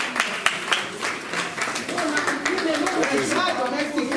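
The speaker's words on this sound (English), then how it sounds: "No, clap for her now." An audience at a breastfeeding and working-parent talk claps, with scattered hand claps rising to fuller applause, mixed with background chatter and a voice speaking over it.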